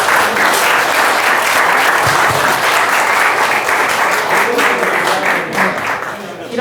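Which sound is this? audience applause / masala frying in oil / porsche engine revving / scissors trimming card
audience applause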